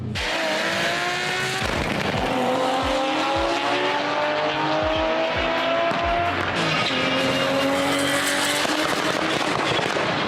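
Nissan Skyline R34 sedan engine racing hard, with steady loud engine roar, repeated rising gear pulls, tire squeal and skidding, and sharp thumps at gear changes throughout, no talk.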